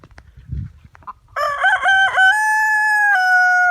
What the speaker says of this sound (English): these roosters don't like it when I talk, because they only crow when I talk